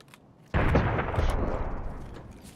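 Gunfire in the shooter game Escape from Tarkov: a single loud, booming shot that rings out and slowly decays over about two seconds, heard alone without talk.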